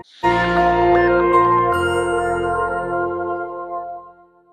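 A single struck bell rings out with a rich metallic tone, then slowly decays over a few seconds, heard alone without speech.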